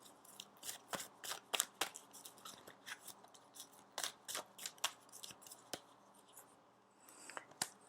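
Tarot cards are shuffled and drawn by hand in quick irregular bursts of crisp riffling and flicking, close and quiet, with short pauses between the strokes and no talking.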